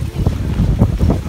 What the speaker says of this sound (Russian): Ну, сегодня ветер, значит, вчера ветра не было.